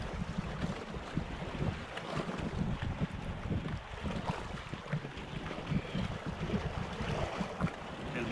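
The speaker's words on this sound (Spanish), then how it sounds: "El mar se está agitando bastante." Rough sea churns with waves washing and gusts of wind buffeting the microphone, a constant low, rumbling surge with surf pulses and no voices.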